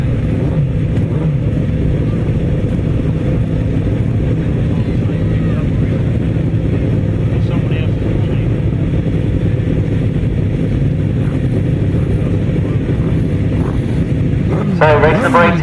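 Grasstrack sidecar racing motorcycles at a British Masters meeting, their engines droning loudly and steadily throughout, a dense continuous roar with rising revs near the end, while a commentator talks over it.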